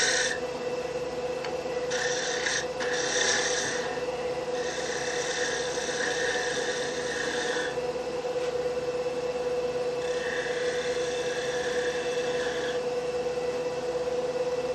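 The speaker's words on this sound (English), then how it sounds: "turning a bead with a skew" Skew chisel cutting a wooden bead on a spinning wood lathe, giving a steady rubbing, rasping scrape in repeated passes of a few seconds each over the constant hum of the lathe motor.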